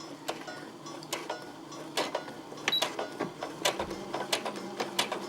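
A sewing machine stitching through beaded fabric at reduced speed gives a quiet mechanical ticking and clatter of irregular needle strokes over a low motor hum, close up and without talk.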